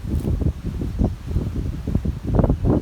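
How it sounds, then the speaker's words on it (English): Strong wind outdoors in Honolulu, Hawaii buffets the microphone, producing a loud, low, gusting rumble that rises and falls in uneven surges with no voices present. "The wind's ripping here."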